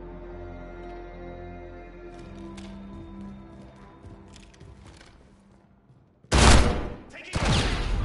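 After a stretch of low rumbling background, two loud, sharp shotgun blasts in Call of Duty: Modern Warfare ring out about a second apart, close and booming.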